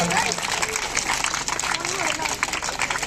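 Audience applause at a school annual function and farewell ceremony, given for the staff: dense, loud clapping from a crowd throughout, a continuous rattling wash with some voices mixed in.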